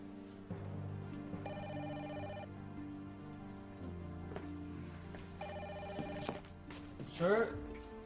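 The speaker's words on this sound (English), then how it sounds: "Sir, the phone is ringing." A telephone rings in two separate trilling bursts, a few seconds apart, over a steady background hum and scattered soft noises, with a brief voice near the end.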